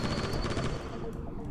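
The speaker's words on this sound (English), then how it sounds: "watch the chain gun" Rapid mechanical bursts from a chain gun in the robot skating game Delta Loop, a dense close rattle of continuous fire that trails off toward the end.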